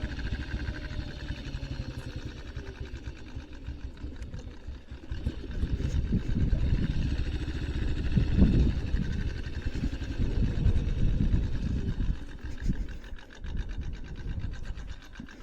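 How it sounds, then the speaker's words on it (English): A BSA C15 motorcycle engine runs steadily up close with a noisy clutch, giving a continuous low mechanical chatter and rattle that swells slightly midway, with no talking. "The clutch's noise is a bit depressing."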